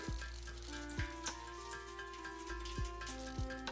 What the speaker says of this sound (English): I love the rain sound in this game.